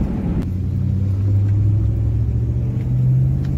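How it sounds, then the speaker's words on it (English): A 1960s Cadillac V8 revs under throttle while the car is driven, a loud, steady low engine rumble that swells and holds close throughout, with no talk over it. "Once you go on the throttle, you hear the V8 singing."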